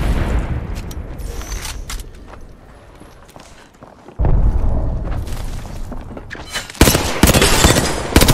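Arc Star grenade blasts in the Apex Legends video game, loud booming bursts with gunfire-like cracks and scuffling footsteps, a sharp loud surge midway and another near the end.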